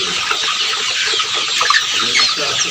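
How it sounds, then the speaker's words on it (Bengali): A crowd of broiler chickens in a poultry shed, dense continuous clucking and chattering close by, steady throughout. "এই হচ্ছে আমাদের শেডের মুরগি।"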